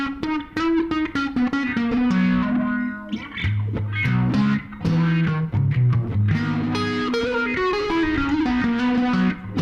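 A carbon fibre guitar played through a delay effect while busking, with a distorted, echoing melodic line of sustained notes and quick runs that fills the whole stretch loudly with no talking.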